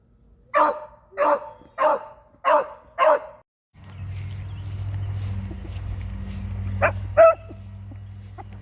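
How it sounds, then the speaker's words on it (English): A beagle hound gives five short, loud barks in an even rhythm, followed by a steady low hum and background noise with a couple of faint distant yelps. "Beagles are probably best known for their howls that they make to let hunters know that they're on the trail of a rabbit."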